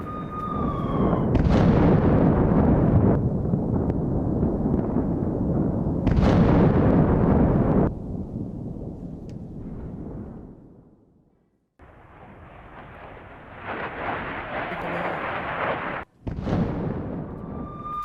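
Russian bombardment strikes a Ukrainian military convoy on a battlefield, heavy explosions roaring in long, loud bursts separated by brief lulls and a sudden sharp cut, with no speech.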